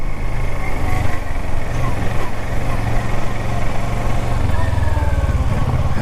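A 2017 Kawasaki Versys 650 parallel-twin engine runs with a steady, loud low drone and rumble, heard up close throughout, with wind noise and a voice talking over it.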